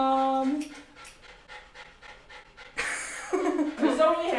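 A dog panting rapidly and loudly in short breathy bursts up close, mixed with people talking at the start and again near the end.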